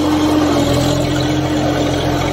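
Diesel engine of a farm tractor (855 model) reversing out of a muddy field, a steady loud, close mechanical drone with a constant low hum throughout.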